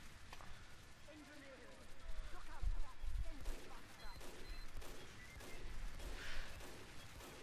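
Gunfire in Team Fortress 2 Mann vs. Machine: a quiet, busy battle mix of scattered shots and thuds with a couple of heavier bursts in the middle, buried under game noise and talk.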